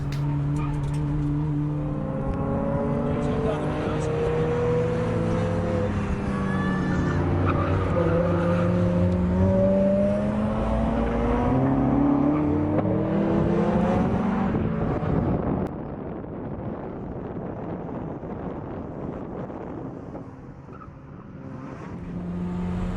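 Toyota Yaris race car driving on track at Blyton Park, its engine loud and close, rising and falling through gear changes, with tire squeal in places and the note thinning toward the end.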